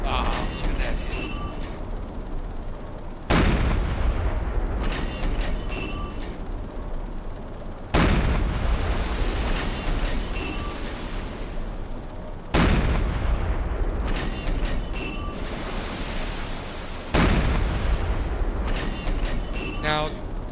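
A U-boat deck gun firing in the naval game Silent Hunter 3, four heavy booming shots spaced several seconds apart, each with a long rumbling decay, loud and close over constant background noise.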